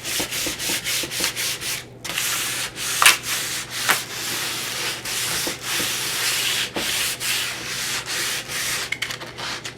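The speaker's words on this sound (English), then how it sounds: "I am just going to give this a quick scuff sanding" Sandpaper, about 180 grit, scuff-sands a wooden cabinet door in quick, scratchy back-and-forth strokes with short pauses between passes, close and fairly loud.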